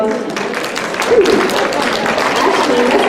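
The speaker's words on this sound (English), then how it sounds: "let's give a big round, even bigger round of applause to all the volunteers" Audience applause for volunteers at an International Women's Day 2020 panel event, a steady, dense wash of clapping that holds at an even level for a few seconds with no gaps.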